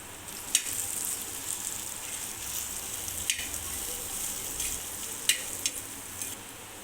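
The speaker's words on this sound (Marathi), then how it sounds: "आता यामध्ये साधारण एक ते दीड टीस्पून आपण घाटी मसाला टाकूया आणि व्यवस्थित परतवून घेऊया" Tomato and ghati masala fry in a pan with a quiet, steady sizzle while a spoon scrapes and stirs in several separate strokes, close by and without voices.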